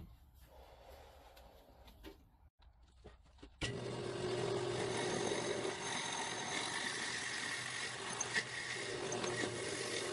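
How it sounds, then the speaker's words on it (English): A power drill bores a lanyard hole through a G10 slingshot frame, a steady whirring grind that starts abruptly after a few seconds of quiet shop noise and runs on loud and close with no talk. "So I'm going to drill that hole right now."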